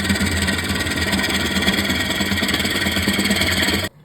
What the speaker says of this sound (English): And there is a gouge cut, or going out.